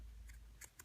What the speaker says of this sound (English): Then you're going to take your scissors